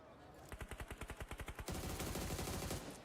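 A quick automatic burst of gunfire in the PUBG Mobile video game, a dozen evenly spaced shots in about a second followed by denser, rougher firing, heard fairly faintly under a commentator's voice.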